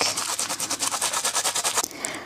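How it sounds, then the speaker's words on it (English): A scraper rubs repeatedly over a transfer laid on fabric in an embroidery hoop, giving a quick run of about a dozen close, rhythmic scratchy strokes that stop abruptly near the end. "just use a scraper to make sure it gets onto the fabric."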